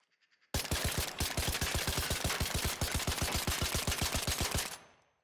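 Kettle weapon from the ARC Raiders video game, fitted with a muzzle brake and green angled grip, fires a loud, steady burst of about forty rapid, evenly spaced shots that stops abruptly, with no talking.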